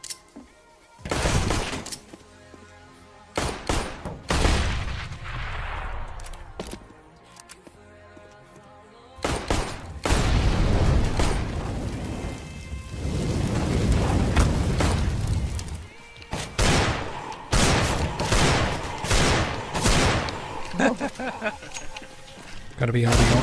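Deagle shots and other gunfire from a CS:GO match ring out as sharp, repeated bursts and booms, scattered through the game's noise with a commentator talking over the action.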